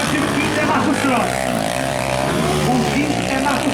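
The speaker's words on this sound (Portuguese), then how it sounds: "Acelera o Osonil da Robinho Moto, acelera, garoto." Velocross motorcycle engine accelerating hard during a race at the Copa RN final in Paraú, a loud continuous high-revving drone that stays steady throughout, mixed with a crowd and an announcer talking over it.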